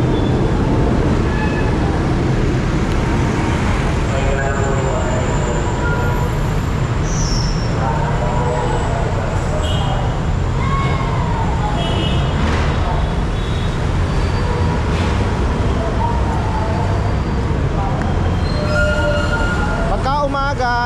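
Loud, steady rumble of an elevated LRT train passing overhead at Monumento terminal, Caloocan, at night, mixed with busy street traffic, a constant roar with occasional squeals and horn-like tones.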